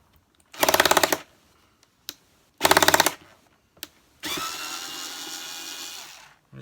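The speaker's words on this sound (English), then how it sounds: "I'm just going to take these bottom screws out and have a look inside" A power drill takes the bottom screws out of a Hoover Turbopower Junior U1100 vacuum cleaner: two short, loud buzzing bursts with brief clicks between them, then a longer, steady whir. It is close-up, with no talking.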